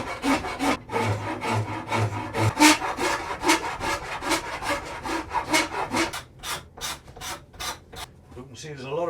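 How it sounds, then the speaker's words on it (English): Wood rasp strokes across an ash, purpleheart and hickory bow limb, a run of rhythmic scraping passes close and loud, slowing into sharper separate strokes toward the end, with no speech. "So I'll just flatten some of those out first with this rasp, with this file."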